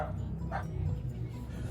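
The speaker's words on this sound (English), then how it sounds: "My daughter's dog, the small dog, Kronos, just wouldn't stop barking" A small dog yips twice in quick short barks, faint and somewhat distant over a low indoor background hum.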